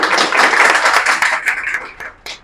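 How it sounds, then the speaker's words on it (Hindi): Hands clap loudly and continuously at a birthday celebration, a dense burst of applause from several people that thins into scattered claps before stopping. "थोड़ा जोरदार से थोड़ा ताली बजाऊंगी"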